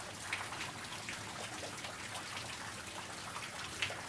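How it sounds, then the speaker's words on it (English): Rain falls steadily during an April shower in the Rio Grande Valley, a soft continuous hiss dotted with a few sharper drips and patters, fairly quiet and with no voices. "it's still raining."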